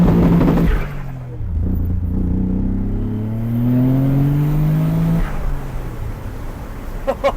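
A twin-turbo 3-litre V6 Nissan 300ZX pulls away from a standstill, its engine note climbing through gear changes in a loud, close, sustained roar that fades slightly at the end.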